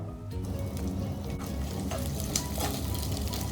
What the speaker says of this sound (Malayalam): സവോള വാടി വരുന്നത് വരെ നമുക്ക് ഹൈ ഫ്ലെയിമിൽ തന്നെ ഈ എണ്ണയിൽ ഇതൊന്ന് വഴറ്റിയെടുക്കാം